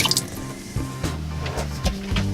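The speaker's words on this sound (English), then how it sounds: "here's our kitchen with our nice good water pressure with our filtered drinking water" Filtered drinking water runs from a kitchen faucet in a Sprinter van camper, a close splashing and dripping stream into the sink, uneven with small gurgles, short and fairly quiet.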